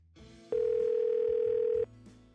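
A single steady electronic telephone tone plays through a phone handset for over a second on a call, with faint muffled background noise before and after.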